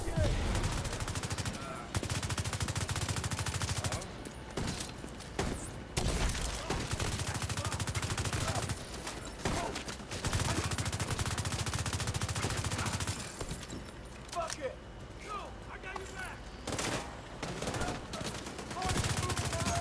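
An enemy turret in The Division 2 fires long, dense streams of automatic gunfire, loud and sustained with short gaps between bursts.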